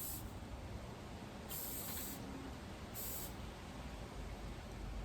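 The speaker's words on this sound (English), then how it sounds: "So let's go ahead and just spray the spatula real quick." Cooking spray hisses onto a spatula in two short bursts, close and clear, while making Rice Krispie treats, with a quiet room between the bursts.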